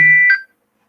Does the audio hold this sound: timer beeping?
yes